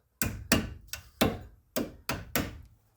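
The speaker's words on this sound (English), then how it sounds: "use a hammer" A hammer strikes metal seven times in an uneven rhythm, tapping a brake part into the front caliper of a 2006 Chrysler Town & Country, each sharp close tap ringing briefly before the next.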